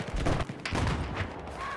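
Mortar shells land in a large multiplayer shooter match, giving dense, rumbling explosive bursts in quick succession. The booms overlap and hold steady at a loud level through the short stretch.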